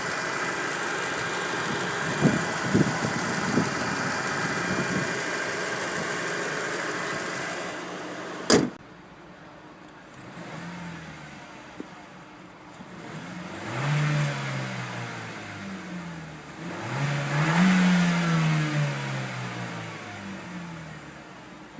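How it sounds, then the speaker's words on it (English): A 2011 Chevrolet Cruze Eco with a 1.4-liter engine and six-speed manual idles under a low steady hum, then a door thuds shut and the engine swells through several rising revs before settling back to idle. "it's a smooth running engine for the most part."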